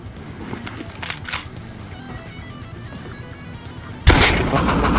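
Gunfire in the video game Rust during a raid: a few sharp shots early on, then a loud burst near the end over busy game noise.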